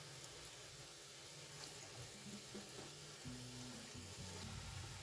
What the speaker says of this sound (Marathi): गोल्डन कलरवरती छान तळून घेणार आहोत आपण.